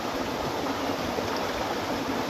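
Steady, dense rush of running water, loud and continuous throughout with no breaks, like a strong flow pouring through a pipe up close.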